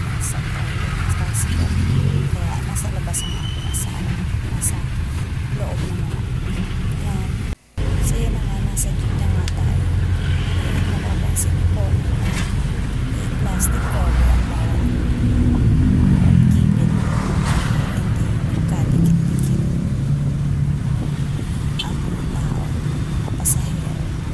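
A motorized tricycle's engine runs steadily close by, a continuous low rumble with occasional revving, with people's voices murmuring over it for the whole stretch.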